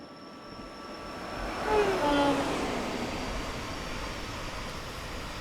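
A BR Class 87 electric locomotive passes the camera in Train Sim World 6, a steady broad rumble that swells as it goes by with a falling whine, then carries on at an even level.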